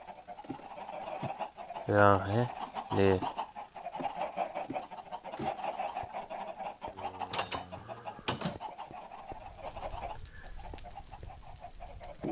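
Chickens in the Minecraft video game cluck in short bursts, moderately loud over game ambience, while someone talks briefly in German.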